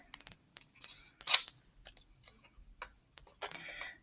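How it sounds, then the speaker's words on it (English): Scissors snip through stacked, still-folded paper cards for a homemade game board, a string of sharp close clicks and crisp cuts, with a louder slicing burst partway through and a rapid flurry of snips at the end. "I'm going to cut all of these the fastest way possible, which is still folded."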